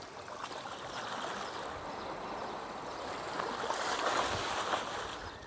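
A steady, soft wash of flowing water, like a stream or gentle surf, continues evenly throughout with no voices, quiet and enveloping.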